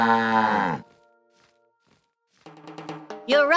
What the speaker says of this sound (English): That sounds like a cow.